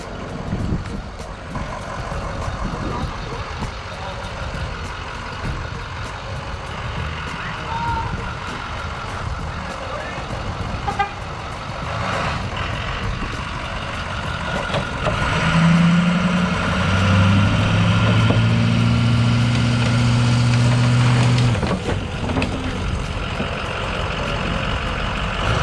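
A monster truck engine idles with a steady mid-range rumble before crushing cars, joined partway through by a loud, clear run of reversing beeps, with faint background noise throughout.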